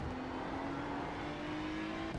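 Corvette race car engine in the iRacing sim, a steady sustained drone with a faintly rising pitch throughout, close and continuous with no talk.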